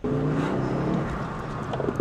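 A hot hatch bought at auction drives along after its fault codes were cleared, its engine giving a steady, close interior drone with a low rumble and slight variation in pitch, and no voices.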